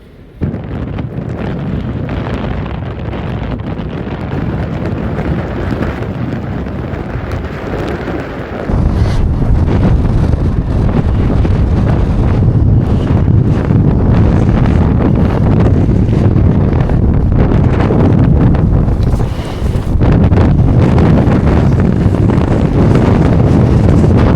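Strong wind on the Oregon coast during king tides, roaring loudly and continuously into the microphone as a heavy, rumbling buffet that grows even stronger partway through.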